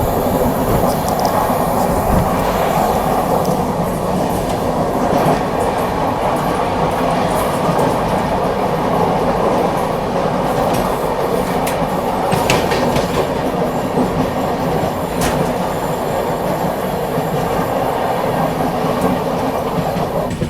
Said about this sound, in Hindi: ये जा रही है देहरादून नई दिल्ली शताब्दी एक्सप्रेस।